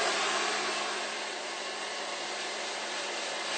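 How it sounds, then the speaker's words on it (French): A hair dryer blows steadily to dry latex special-effects makeup, a constant close-up broadband whoosh with a faint motor hum running the whole time and no voices. "pour accélérer le séchage du latex, on va prendre un sèche-cheveux et on va tout sécher"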